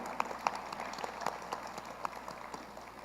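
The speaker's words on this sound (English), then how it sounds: "Round of applause for everybody." An audience at a Hispanic women's organization conference in Arkansas applauds: a faint, distant patter of many hands clapping steadily for a few seconds, with scattered sharper claps.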